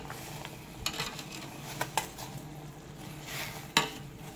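Adobo with cassava being stirred in a pan: scattered scraping and clinking of a utensil against the pan with a light sizzle underneath, a few sharp knocks standing out, fairly close and moderately quiet, no talk.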